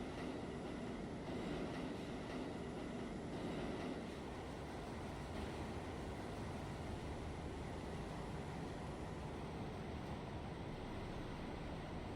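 Steady rumble and rattle of an R46 subway train running along the track in Trainz 2019, continuous and fairly close, with wheel noise and no talk.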